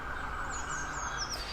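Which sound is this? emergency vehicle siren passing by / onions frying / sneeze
emergency vehicle siren passing by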